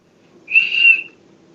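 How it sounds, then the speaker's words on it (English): A child whistles a single steady note of about half a second, clear and close, over a faint background hum. "Can I hear you whistle"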